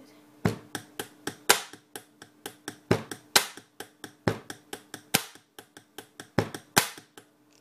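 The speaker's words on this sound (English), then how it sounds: "Okay, so I'll do it slower" A pen tapped out a slow, steady rhythmic beat on a desk, with crisp close-up clicks and louder accented knocks repeating in a pattern for several seconds and no talking.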